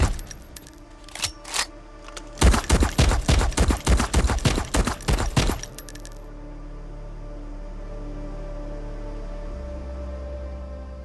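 A rapid burst of gunfire in an action movie, many sharp shots fired in quick succession for about three seconds, followed by a low lingering rumble and near-silence.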